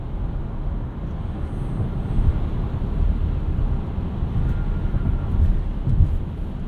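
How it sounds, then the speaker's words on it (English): A steady low rumble of road and wind noise fills the cabin of a 2021 Tesla Model Y Standard Range RWD on 19-inch wheels, the drone constant and broadband with a few faint bumps, and no talking. "There's a little bit of wind noise, a little bit of road noise."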